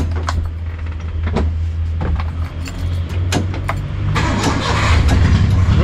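A Mitsubishi Jetstar pickup truck engine cranks loudly and steadily up close with a whirring starter, then catches and rises into a fuller running roar near the end.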